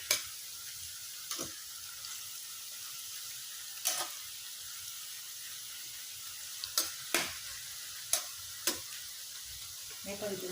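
French fries sizzle and crackle quietly in hot oil, a steady low frying hiss broken by several sharp pops and spatters at irregular intervals.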